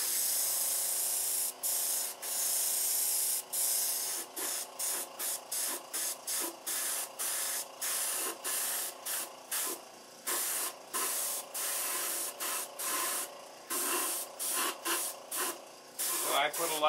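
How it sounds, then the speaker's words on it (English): A spray can lays a light coat of red paint in a long run of short hissing bursts, each stopping and starting again with brief gaps, fairly close and steady in level. "And if you're spraying any big areas,"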